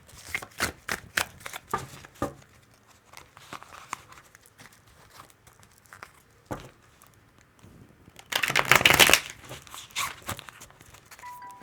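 Tarot cards shuffled and pulled from the deck, a run of quick riffling flicks and soft card snaps, with a louder, denser burst of shuffling near the end.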